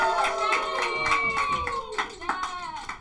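An audience at a comedy show claps in a dense, steady round of applause, with a host's voice carrying over it.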